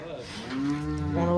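A cow gives a single long, low moo that swells steadily in loudness, close and clear, with no talking over it.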